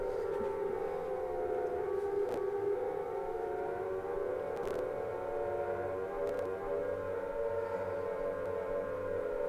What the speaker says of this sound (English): And we hear sirens.